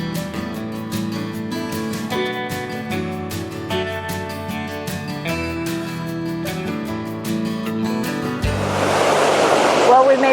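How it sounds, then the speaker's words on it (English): Roughlock Falls, a small multi-tiered waterfall, rushes as a steady broadband wash that swells louder near the end after sitting beneath background music for most of the stretch. "It's a gorgeous little multi-tiered waterfall."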